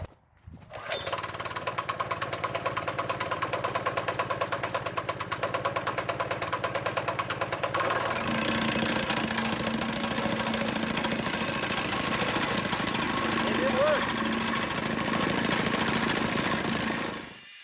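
Hydraulic gravel compactor engine starting, then running with a steady rapid pounding thump, its revs climbing partway through to a louder, busier roar that holds close and continuous.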